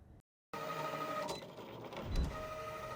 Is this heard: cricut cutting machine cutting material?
yes